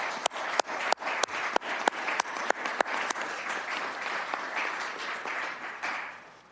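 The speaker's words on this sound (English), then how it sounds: "So I'd like to give a round of applause to the kids who spoke earlier." Applause at a county commission meeting for 4-H kids, opening with several sharp distinct claps and then thickening into a moderate, steady round of clapping from the room.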